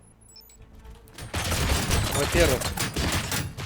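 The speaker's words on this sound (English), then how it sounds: "Gunshots? What's going on?" Gunfire in the video game RoboCop: Rogue City erupts after a quiet moment, with rapid bursts of shots and impacts crackling over a dense, noisy scene while someone speaks briefly.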